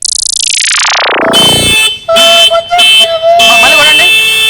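Car horn heard in a comedy sketch: a loud falling electronic sweep gives way to bright, sustained honk-like tones in several short bursts, harsh and close.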